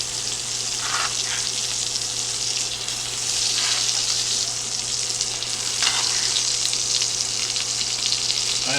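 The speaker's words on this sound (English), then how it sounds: "I'm just taking the rest of the butter and the garlic that's been cooking, putting it on top of the steak here." Steak sizzling loudly and continuously in a pan with butter and garlic, a dense close frying hiss with brief swells, no voices.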